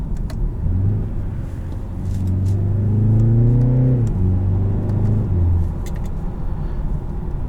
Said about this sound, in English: You will get little burbles here and there from the exhaust.